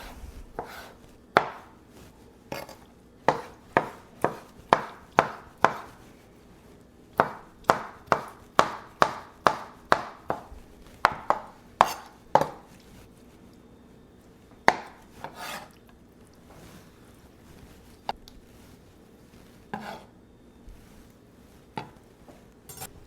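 A knife chops vegetables for a chickpea Greek salad on a cutting board, a steady run of sharp, close thuds coming in quick bursts, then sparser, slower cuts toward the end, with no speech.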